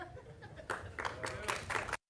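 Scattered clapping from a debate audience, a few loose bursts of hand claps starting partway through, moderately close, with some murmur and chuckling mixed in.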